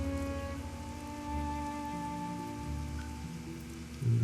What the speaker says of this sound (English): Back out into the night. Oh, look, it's raining.